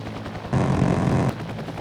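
Guns of a Cobra attack helicopter in the game Heliborne fire in one sustained burst of roughly three-quarters of a second, loud and dense against a quieter engine-like background, with no talk.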